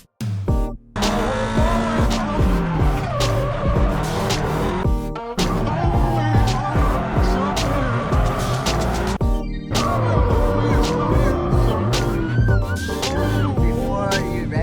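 A car drifts at Ebisu circuit, with loud continuous engine revving and long tire squeals rising and falling over about fifteen seconds, broken by a few short gaps.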